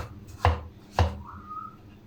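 Two sharp knife chops on a cutting board as a tomato is cut in half, about half a second apart, close and distinct, followed by a faint high tone in a quiet room.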